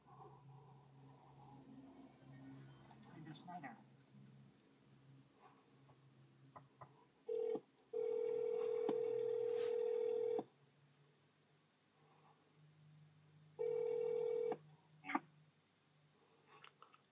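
Phone call ringing through a car radio's hands-free system while driving, steady tonal ringback bursts, two long and one short, over quiet cabin hum, followed by a faint beep.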